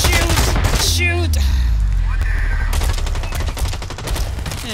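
Rapid automatic gunfire in the shooter video game BlackLight Retribution, loud bursts of clattering shots up close, with a short gap and then sustained firing, mixed with a voice talking over it.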